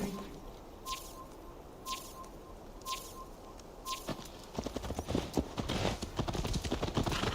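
Horse hooves in Assassin's Creed Valhalla clip-clop at a steady walking pace through most of the clip, fairly close, with faint birdsong in the background and rising ambient noise toward the end.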